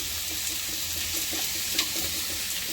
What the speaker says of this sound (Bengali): একদিকে লুচিটাও ভেজে নিই